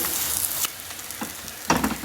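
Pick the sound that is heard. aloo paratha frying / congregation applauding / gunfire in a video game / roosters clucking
aloo paratha frying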